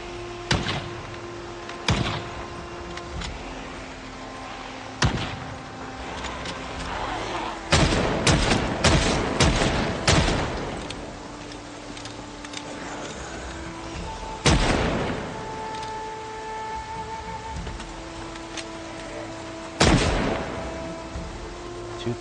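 Rifle shots fired at a horde of zombies in the game Project Zomboid ring out one at a time at irregular intervals, each a sharp, loud crack over a steady background drone.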